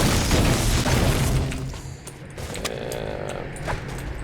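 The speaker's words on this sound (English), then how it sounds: "Rocket launcher." A rocket launcher fires and blasts in a Fortnite solo tournament match, a loud booming burst with crackling debris up front that fades into a rumbling tail with scattered sharp pops.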